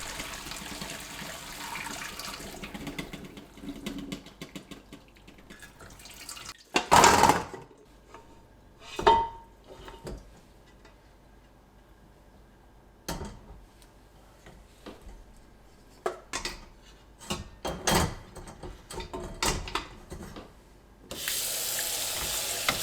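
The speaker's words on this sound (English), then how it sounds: "Let's strain the bones out and wash each one thoroughly with water." Beef bones for pho being rinsed one by one under a running kitchen tap, with water splashing into the sink in several separate bursts, some loud and close, between quieter stretches of handling.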